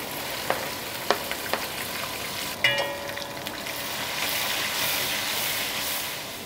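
Onion and bell pepper frying in a pan, a soft steady sizzle with a few sharp clicks of a utensil against the pot and a gentle swell of hiss toward the end.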